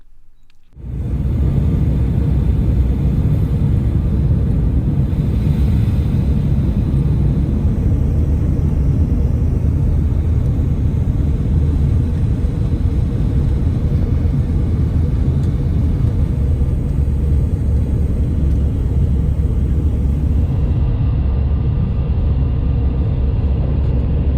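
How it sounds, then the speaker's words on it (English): Domestic passenger flight landing at Orly Airport, France, heard from inside the cabin as a loud, steady engine roar and rumble that starts abruptly and holds for the whole stretch. "We flew over castles and old French towns before touching down smoothly on runway 26."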